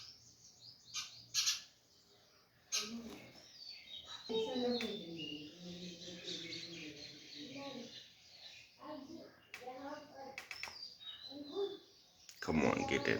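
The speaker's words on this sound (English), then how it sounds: "the father sparrow has arrived." A house sparrow chirps near its nest, where a fallen nestling is being returned; short bursts of chirps come close by, with rustling, clicks and handling noises between them.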